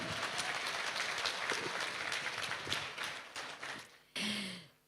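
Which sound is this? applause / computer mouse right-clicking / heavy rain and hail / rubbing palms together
applause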